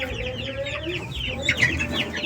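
Backyard free-range chickens cluck busily close by as they are fed madre de agua leaves, a continuous chorus of overlapping clucks and chirps with a louder burst midway.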